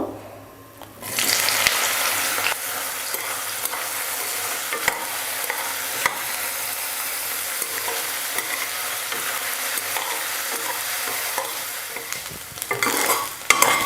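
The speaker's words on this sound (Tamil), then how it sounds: "எண்ணெயில் இந்த மீன் மேக்கரை நல்லா வறுத்து எடுத்துக்கலாம்" Soya chunks (meal maker) fry in hot oil in a kadai. A loud, continuous sizzle starts abruptly and holds steady with crackling, swelling again near the end.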